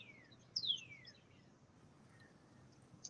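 Birds chirp outdoors in a couple of faint, high descending whistles, thin and distant over quiet background.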